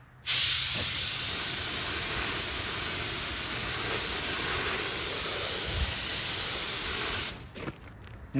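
Clear coat is sprayed onto the door jambs of a wrecked 2011 Chevy Malibu, a single continuous hissing burst from a spray gun lasting about seven seconds, close and steady, then cutting off.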